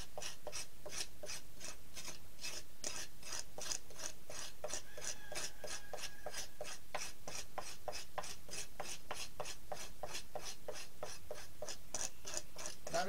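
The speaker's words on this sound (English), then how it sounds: "And I'm just going to take the side of it and scrape it." A rounded sheet metal garden trowel scrapes loose residue from the side of a biochar trough in steady, rhythmic rasping strokes, close and continuous, with no talking.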